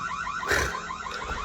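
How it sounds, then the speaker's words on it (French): A Reolink Argus Track solar dual-lens security camera sounds its built-in siren, a brief wavering electronic alarm tone at moderate loudness with no talking. "J'ai activé le mode sirène, vous allez voir."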